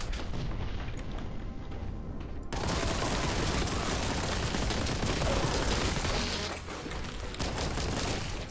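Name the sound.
rocket launcher firing in video game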